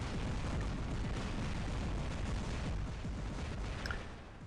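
Rocket blasts during a Halo multiplayer match, a dense, continuous roar of booming explosions and crackling debris that stays loud for several seconds before easing slightly.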